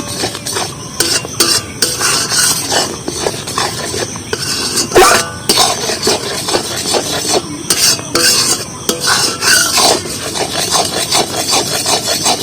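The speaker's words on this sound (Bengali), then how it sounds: "আর এইভাবে নাড়তে থাকবো" Spoon stirring milk in a metal pan while it cooks down for puffed rice balls, a steady scraping and rubbing with frequent clinks against the pan, close and fairly loud, no voices.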